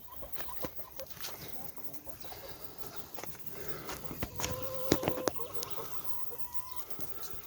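Chickens cluck and squawk close by in an outdoor yard, with scattered calls and a brief rising squawk among soft background noise.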